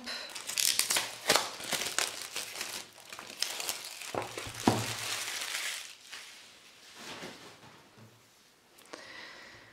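Packaging being unwrapped from an oracle card deck: close, bursty crinkling and rustling of plastic or paper with sharp tearing bursts, loud at first, then softer handling and occasional crackles.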